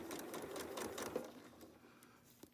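A sewing machine runs steadily, stitching a quilt block with a 1/4 inch seam; the needle's even rapid whir stays close and moderately loud throughout, with no talking.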